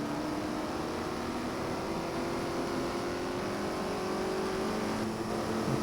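A Mustang race car engine in the GT Legends racing game drones steadily at a constant pitch, moderately quiet, with no voices over it.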